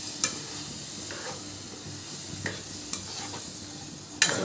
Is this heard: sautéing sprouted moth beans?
yes